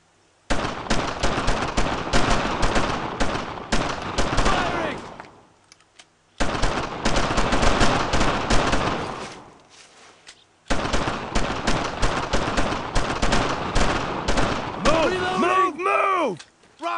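Sustained gunfire in the World War II shooter Brothers in Arms: Road to Hill 30, in three long, loud, dense stretches of rapid shots separated by brief lulls, with shouted voices near the end.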